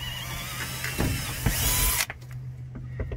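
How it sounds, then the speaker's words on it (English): A power drill with a 5/32 bit whirs close by in a short burst lasting under a second while drilling a pilot hole, then cuts off, followed by a few light handling clicks. "Then I've got a 5/32 bit. You just want to drill a pilot hole."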